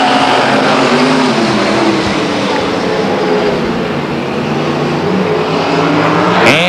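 Race cars at Stockton 99 Speedway roaring off on the green flag, a dense, loud wash of engines sustained across the whole stretch, with a sharp burst near the end.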